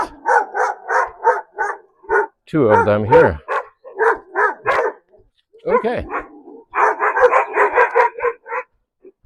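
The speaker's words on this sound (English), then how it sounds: "They bark in Italian." Several dogs on a rural Italian path among olive groves bark repeatedly in short, loud bursts with a few howls and yips mixed in, while someone speaks briefly between them.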